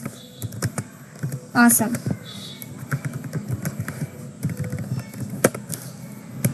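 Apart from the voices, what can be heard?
typing on a computer keyboard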